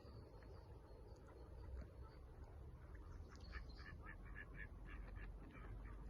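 Ducks quack faintly in a distant flock in spring, with swans nearby, their nasal calls repeating in short bursts over a low outdoor rumble and steady background noise.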